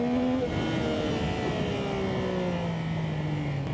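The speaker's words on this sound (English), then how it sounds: "Bang through the gears on the shifter." Yamaha XSR900GP motorcycle accelerating and clicking up through the gears on its quick shifter, engine pitch climbing and dropping with each shift amid loud wind noise.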